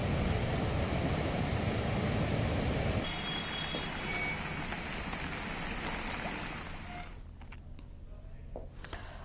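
Heavy monsoon rain in Uttarakhand pours as a loud, dense hiss for the first few seconds, then continues as a softer, steady wash of falling water.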